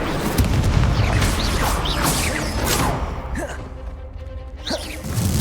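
Spell effects in Hogwarts Legacy crack and whoosh with booming bursts of fire, loud and layered with combat mechanisms and shouted voices.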